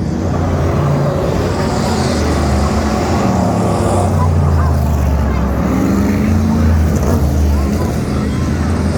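V8 outlaw race cars roar steadily around a track during a Chase for the Gold race, a continuous loud engine drone filling the scene with a race commentator talking over it.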